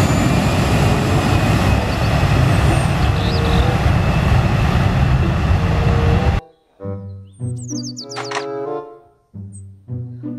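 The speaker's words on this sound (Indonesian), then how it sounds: "Pesawat terbang." A loud, steady airplane engine roars for several seconds, then cuts off abruptly, leaving a brief burst of sung or chimed tones.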